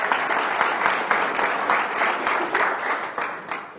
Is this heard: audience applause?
yes